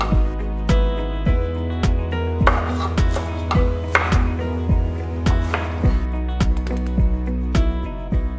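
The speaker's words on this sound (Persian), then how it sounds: "من 4 تا دونه سوسیس حلال گاوی هم دارم که خرد میکنم و توی سسم استفاده میکنم." Knife chopping halal beef sausages on a board, a steady run of about fifteen sharp, close thuds in an even rhythm, loud and without speech.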